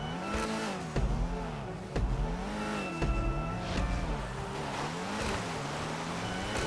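Engine of an Ocelot Ardent, a British sports car in GTA, revving steadily with repeated rising and falling gear pulls and short sharp clicks between shifts, driving loud and alone.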